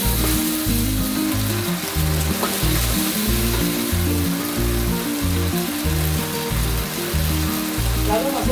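Sweet and sour pineapple sauce with tomato sauce and spring onion being stirred in a frying pan, a continuous close sizzle partly masked by rhythmic background music playing over it the whole time.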